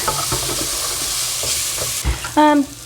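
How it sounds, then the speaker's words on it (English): Onions gently sweating in a pan before garlic goes in, for a homemade tomato sauce to serve with potato gnocchi, giving a soft steady sizzle close by with light stirring scrapes and a brief louder clatter near the end. "we don't want them to caramelize, we just want them to sweat"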